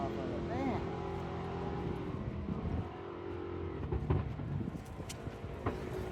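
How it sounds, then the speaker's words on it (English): A Trans Am drag car spins its tires at a drag-and-drive event, a loud, rough engine roar and tire noise carrying across the track while people talk nearby. "Trans Am blowing the tires off of it."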